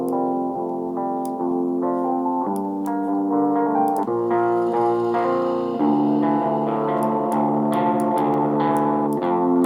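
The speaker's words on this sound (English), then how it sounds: "So I'll put some space designer on them, give them a little bit of reverb," A looped electric guitar melody in a type-beat production drenched in Space Designer reverb, sustained chords and plucked notes ringing out with long spacious tails, steady and loud throughout.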